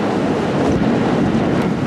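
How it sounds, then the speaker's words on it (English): Strong wind buffets an outdoor microphone at an autogyro flying site, a continuous loud roaring rush with no talk. "This is how windy it is."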